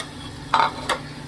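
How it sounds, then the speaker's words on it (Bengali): Drumsticks, potato and eggplant sautéing in a pan give a low sizzle, with two short scraping stirs of the spatula close by. "আর এটি দিয়ে কিন্তু আমি একটু ভালোভাবে কষাই নিই।"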